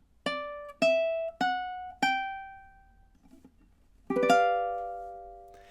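A high G ukulele plays one measure of a song: four evenly spaced plucked chords ring out in a steady beat, a pause follows, then one final sustained chord. No one speaks.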